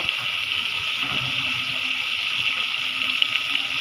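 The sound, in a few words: water poured into pan of braised chicken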